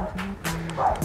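A dog gives a few quick yips and barks outdoors, close by, with people talking over and around them.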